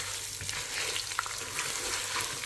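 Washed Egyptian rice frying with vermicelli and pasta in a pot, a steady close sizzle with faint stirring scrapes throughout.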